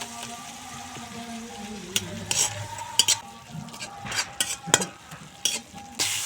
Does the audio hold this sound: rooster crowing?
no